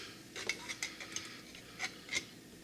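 A Leatherman Signal multi-tool's pliers grip and shift a metal can over a campfire, giving several quiet, close metallic clinks and scrapes in an irregular cluster.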